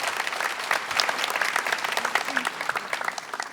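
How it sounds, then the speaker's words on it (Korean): Lecture audience applauding at the close of a televised talk, a brisk, dense burst of clapping that holds steady for a few seconds at moderate loudness. "이 말이 여러분의 가슴에 공감이 되면 박수를 치는 걸로 강의를 마치도록 하겠습니다."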